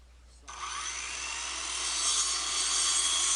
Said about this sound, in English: Here we go with the circular saw to cut out